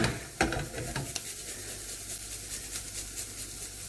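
Onions frying in a pan, a steady soft sizzle throughout with a couple of brief clatters or stirring knocks near the start, quiet and close with no talking.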